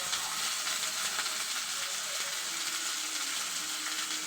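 Dried and green chillies frying in a pan, a steady close hiss and sizzle with faint crackles throughout, no talk.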